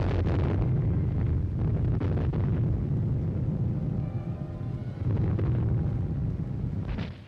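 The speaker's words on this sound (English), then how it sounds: "enemy mortars keep the landing barges under continuous heavy fire" Enemy mortar shells burst around landing barges off the beaches of Iwo Jima in 1945, heavy muffled explosions and rumbling blasts repeating over wind noise across the recording.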